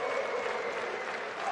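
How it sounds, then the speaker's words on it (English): A hometown crowd at a kickboxing fight in Slovenia between Bojan Kosednar and Aleksandar Jankovic applauds steadily, dense continuous clapping filling the whole moment with no break. "Hometown crowd in support of Kosednar."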